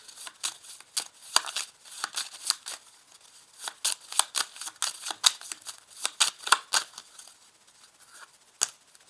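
Petit Lenormand cards being shuffled by hand, a rapid series of crisp papery riffles and slaps in irregular bursts, close and fairly quiet.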